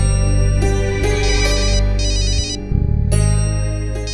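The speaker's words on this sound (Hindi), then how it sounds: "ओ, मेरे बॉस का फोन है।" A phone's ringtone plays a loud electronic melody of repeated chiming notes for several seconds, with a short pause midway before the tune resumes, and no one speaks over it.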